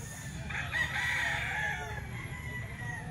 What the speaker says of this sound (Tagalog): Manok dito sa grotto to mga boss.